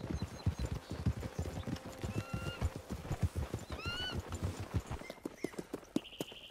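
In the video game Red Dead Redemption 2 Online, several horses clip-clop steadily and close by while neighing and whinnying rise over the hoofbeats, with faint voices underneath.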